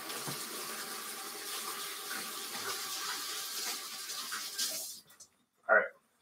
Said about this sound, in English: going to wash my hands real quick